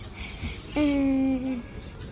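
A green parrot in Parc de la Ciutadella, Barcelona, gives a single short, nasal call of under a second, standing out close and clear over faint park background noise.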